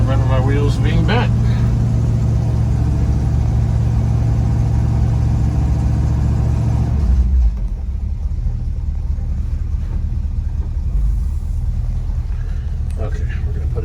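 A 1961 Dodge D300 truck's engine runs with a loud, close, steady rumble that drops to a lower idle-like drone partway through.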